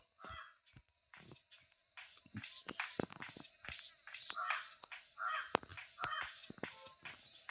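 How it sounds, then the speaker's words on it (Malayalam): A crow in the horror video game Granny caws in a series of harsh, repeated calls, with soft game noises between them and quiet talk underneath. "അപ്പോൾ ഇനി എന്തായാലും നമുക്ക് ആ കാക്കയെ വെടിവെച്ച് കൊല്ലുക."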